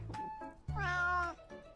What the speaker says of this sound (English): Kitties are just so good.